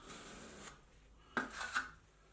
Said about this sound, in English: I can then spread my adhesive